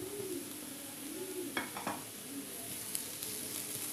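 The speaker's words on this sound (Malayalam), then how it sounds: "ഇതെല്ലാം കൂടെ ഒന്ന് നല്ലതായിട്ട് വഴറ്റിയെടുക്കണം" Onion, garlic and ginger paste sautés in a pan over medium flame, a steady close sizzle with a few sharp stirring scrapes and clinks, while a dove coos faintly in the background.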